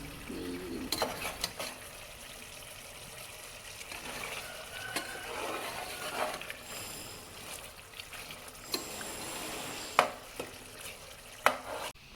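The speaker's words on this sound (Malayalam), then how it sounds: "അപ്പോൾ ഞാൻ ഫ്രൈ ആക്കി എടുക്കുകയാണ്." Chicken parts fry in a pan with a soft continuous sizzle, plus intermittent stirring scrapes and a few sharp utensil clinks, close and fairly quiet, with no talking.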